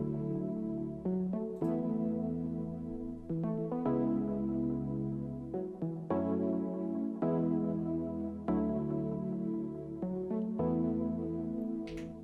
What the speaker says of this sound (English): This is just an E piano preset.